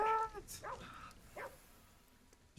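A dog in the video game GhostWire Tokyo gives a few short barks and yips that trail into whimpering, fairly faint over a low background rumble.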